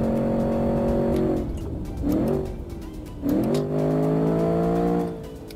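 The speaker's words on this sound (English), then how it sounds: "this car sounds so beastie" A hot hatch engine is driven hard on a racing track, loud and close, rising through revs, dropping briefly on each gear change, then climbing again before easing off near the end.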